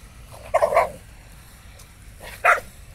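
A stray dog barks twice in a row, two sharp, mid-distance barks about two seconds apart over a low, steady background hum.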